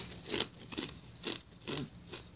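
Crunchy sweet chips bitten and chewed up close, five crisp crunches in a loose, even rhythm with no talk.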